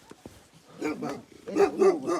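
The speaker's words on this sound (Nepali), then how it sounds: "ओहो दुईवटा कुकुर पाल्नु भएको रहेछ त भोटे कुकुर हो त्यो" A Tibetan mastiff-type dog barks several times in quick succession, close and fairly loud, after a few faint sounds at the start.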